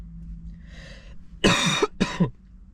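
Two sharp coughs in quick succession, close and fairly loud, preceded by a faint murmur.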